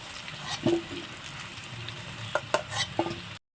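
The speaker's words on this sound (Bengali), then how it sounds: "ওল আর আলুটা হালকা লালচে করে আমি ভেজে নিয়েছি, এবার তুলে নেব।" Elephant foot yam and potato pieces frying in oil, a steady soft sizzle with a few sharp clinks of a spatula against the pan as the pieces are lifted out, close and without talk.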